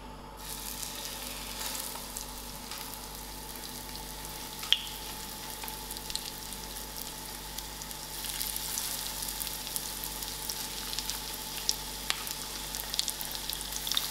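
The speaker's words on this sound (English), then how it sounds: "I'm going to shallow fry my fish cake" Mackerel fish cakes shallow frying in a pan over moderate heat, a faint, steady crackling sizzle that runs on without a break and grows slightly busier toward the end, with no voices.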